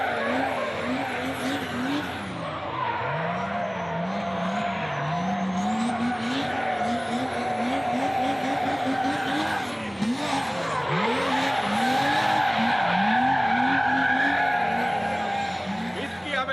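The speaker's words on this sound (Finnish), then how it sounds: "Pitkiä vetoja, huolestuttavan pitkiä vetoja" A car drifts in long sustained slides, its engine droning loud and steady with rising and falling pitch and tyre squeal throughout, while people talk over it.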